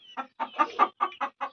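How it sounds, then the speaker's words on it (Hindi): Hens in a farmyard cluck loudly after laying eggs, a series of about seven close, sharp bursts in an uneven rhythm with brief gaps between them and no talking. "इसलिए ये चिल्लाते हैं क्योंकि ये अंडे देती है तो ऐसे चिल्लाती हैं मुर्गियाँ"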